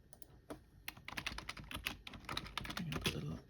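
Typing a comment on a computer keyboard produces rapid, irregular, close key clicks and clacks in bursts, with faint speech in places.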